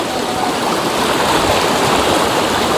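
River water rushes and gurgles in a dense, continuous flow while someone wades upstream, loud and close with no speech.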